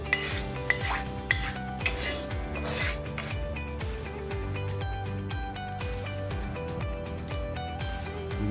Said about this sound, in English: Just spread the veg oil around to coat the bottom of the pan.